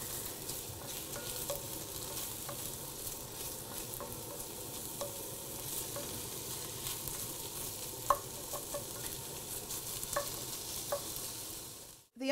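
Onions frying in a pan on the stove, a continuous close crackling sizzle with occasional light clicks of a spoon stirring them, steady throughout and then cutting off at the end, with no voices.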